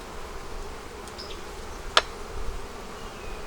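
A continuous low buzz of honey bees at an opened hive in a neglected bee yard, fairly close and even, broken once by a single sharp click.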